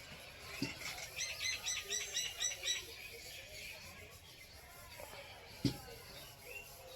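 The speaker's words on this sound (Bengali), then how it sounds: "এবার বুলবুলি পাখি খাচ্ছে" A bulbul feeding on puffed rice outdoors gives a quick run of faint, high chirps, followed by quieter background sounds and an occasional soft knock.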